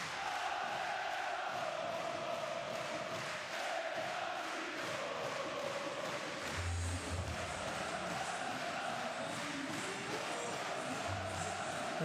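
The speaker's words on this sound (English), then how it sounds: "And the crowd are loving this as we take a breath" Arena crowd noise at a Basketball Champions League game in Wloclawek during a timeout, a steady loud roar with cheering and shouts that swells and holds for the whole stretch.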